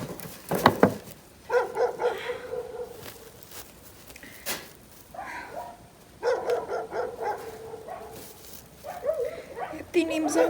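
A dog barks several times at a moderate distance, in irregular bursts, mixed with people talking nearby.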